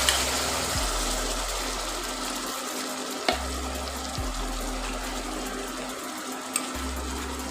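Spice paste sizzling and frying in a hot pan for black chickpea curry, a steady close crackle with low rhythmic stirring scrapes and a couple of sharp clinks along the way.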